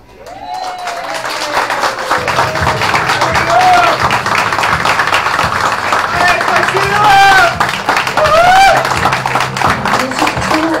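Wedding guests clap and applaud after the newlyweds kiss, a dense, rising wash of hands that swells and holds, with a voice speaking over it and higher tones sliding through.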